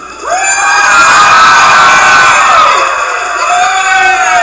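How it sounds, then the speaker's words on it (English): A large crowd cheers and shouts loudly and continuously, voices swelling together with high excited whoops, no applause clearly standing out. "Suddenly Eduardo hears cheering and applause."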